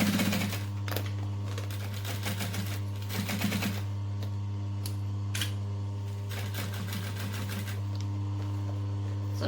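A sewing machine runs a 1/4 inch seam in rapid mechanical bursts, stopping and starting several times over a steady low hum, close and without talk.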